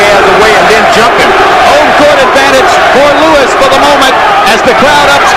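A boxing arena crowd chants loudly and steadily for a heavyweight fighter, a dense roar of massed voices filling the whole stretch, with a commentator talking over it.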